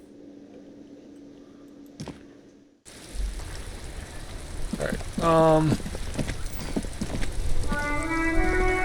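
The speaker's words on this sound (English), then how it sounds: "It's raining again." Steady rain hisses through a street scene in the video game Disco Elysium, a continuous wash of noise that starts abruptly after a quiet stretch and carries on under a brief spoken word and some tonal game sounds.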